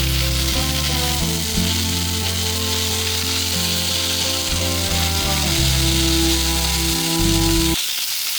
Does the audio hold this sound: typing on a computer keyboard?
no